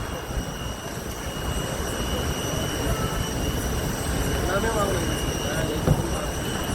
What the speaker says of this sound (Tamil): அங்கே ஒரு பெரிய இன்ஜினு ஃப்ளைட்டு.